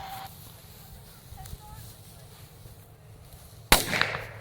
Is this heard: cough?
no